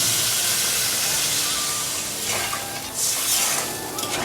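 Water poured into a pan of simmering chilli fish curry with potatoes, giving a steady loud hiss and sizzle throughout, with brief splashy bursts as the liquid hits the hot pan.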